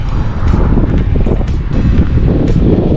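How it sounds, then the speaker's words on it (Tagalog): Steady, loud wind buffeting the microphone, a continuous low roar with gusty rumbles throughout and no other clear sounds. "Hangin."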